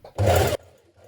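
A sewing machine stitches over a trouser seam again as reinforcement on an elasticated-waist pair, giving one loud, steady burst of about half a second, with quiet room tone before and after.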